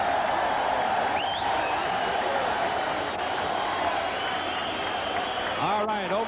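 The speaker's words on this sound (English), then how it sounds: "the crowd applauds Zaragoza" Boxing crowd applauding champion Daniel Zaragoza after he hurt Paul Banke with a left hand in their 1990 rematch, a steady roar of clapping and cheering that fills the arena and runs under a ringside commentator's voice.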